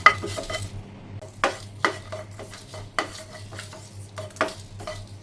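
Two broken dried red chillies and four or five garlic cloves roast in a pan, stirred with a utensil that clanks and scrapes against the metal in irregular bursts over a low steady hum, with only a faint sizzle.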